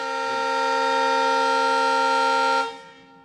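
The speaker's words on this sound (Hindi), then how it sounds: "यहाँ पर आप देख सकते हैं कि किस तरीके से हॉर्न दिया जा रहा है" A long, steady train horn blares from the Sri Ramayana Yatra Deluxe train as it departs the station, one sustained loud blast of about two and a half seconds that cuts off and fades.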